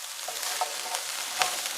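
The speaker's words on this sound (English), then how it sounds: "we're just going to stir that around with these onions, get it coated with that butter" Broccoli and onions being stirred in melted butter in a pan, a steady broadband sizzle with a few soft scrapes of the utensil, close and moderately loud, no voices.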